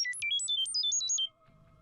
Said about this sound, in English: uses a burst of sound, a bit like birdsong, to transmit an image to any phones